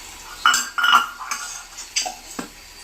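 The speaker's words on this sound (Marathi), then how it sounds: "अहो कामवाली बाई जरा हळूहळू भांडी आपटा." Dishes and utensils clatter and clink in a few sharp bursts, close by, with quieter scraping between knocks.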